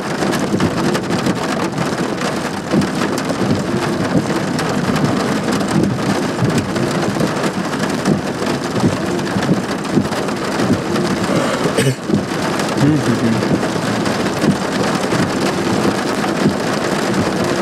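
Heavy rain pours down steadily during a thunderstorm right outside a front door, a loud, dense hiss with rolling rumbles of thunder and a sharp crack near the middle, with no talking.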